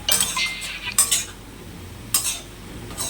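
Leafy greens (note shak) being stirred in a pot with a spoon: bright scraping strokes come in short bursts with quiet gaps between them, close up and without talk.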